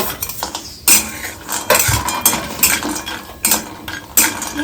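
Cashews are roasted slowly on low gas in a metal pan, with a spoon repeatedly scraping and clinking against the pan in an irregular rhythm, close and fairly loud, with no talking.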